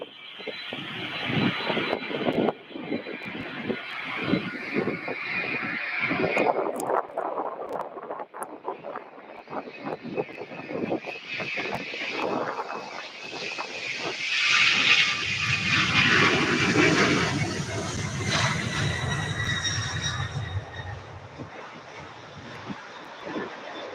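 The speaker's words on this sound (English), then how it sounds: "that is a pretty smoky UPS MD-11 takeoff right there" A UPS MD-11 jet takes off at Louisville airport, its engines building from a rising whine into a loud, broad roar that swells and lingers, with no talking over it.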